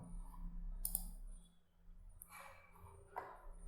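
Quiet mouse clicks on a computer running garage management software, several separate light taps spread across a low background hum, with no talking.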